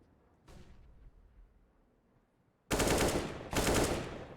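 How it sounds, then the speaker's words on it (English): Gunfire in a competitive Counter-Strike match, a faint early shot followed by two loud, close bursts of rapid firing with a brief gap between them. "Joko, 2 big headshots there onto Catwalk."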